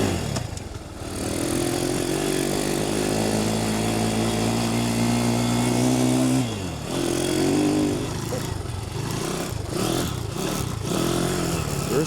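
Small-displacement Piranha 140 pit bike engine running steadily and revving, ridden in first gear on icy snow, with a brief drop in pitch partway through before it picks up again, loud and close.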